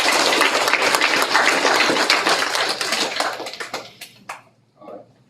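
An audience at a school board meeting claps for an award recipient, dense, steady applause that thins out into a few scattered, fading claps before stopping.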